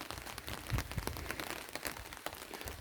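Rain falls steadily outdoors on a garden, as a soft continuous patter of drops heard fairly faint with no voices.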